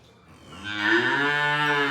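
A crossbred heifer calf gives a single long, rising moo, close and loud, swelling over about a second and holding steady to the end.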